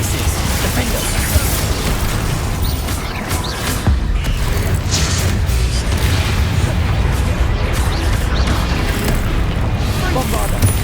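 Repeated Bombarda and Confringo explosion spells in Hogwarts Legacy, a dense, loud barrage of booming blasts and crackling bursts running continuously with no pause.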